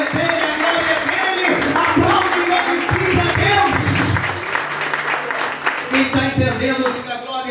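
Inside a church during a sermon, the congregation claps in a loud, continuous wash of applause while voices call out and talk over it, the sound thinning slightly toward the end.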